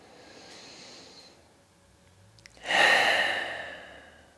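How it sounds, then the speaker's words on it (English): A slow, deep breath during a guided energy exercise: a quiet inhale followed by a louder, breathy sigh of an exhale, close and alone. "Let's take one more breath."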